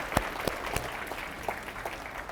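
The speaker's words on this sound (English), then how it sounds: "Can we give Superintendent Delafleur another round of applause for a fantastic" Applause for a school superintendent at a city and schools address, a few distinct claps then thinner scattered clapping fading out, heard from some distance in a hall.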